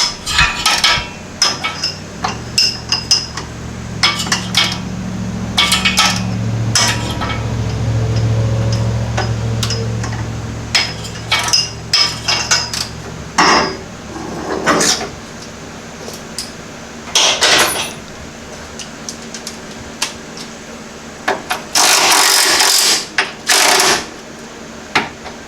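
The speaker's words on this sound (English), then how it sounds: "I'm loosening all the subframe bolts" Car subframe bolts are loosened with a tool, producing a series of sharp metallic clicks and knocks in irregular bursts, with a low mechanical drone in the middle stretch.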